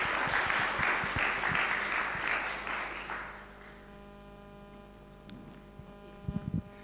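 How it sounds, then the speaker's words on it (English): An audience applauds a speaker at a conference. The clapping is dense and steady for about three seconds, then fades to quiet room tone, and a few handling knocks follow near the end. "Can we clap our hands for"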